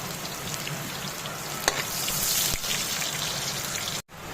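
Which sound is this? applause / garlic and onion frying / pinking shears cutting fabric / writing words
garlic and onion frying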